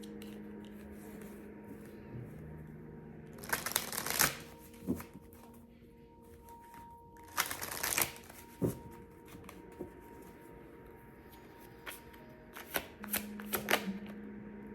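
Oracle cards being shuffled by hand in a quiet room, heard as a few separate bursts of crisp riffling and flicking with soft pauses between them, close to the listener.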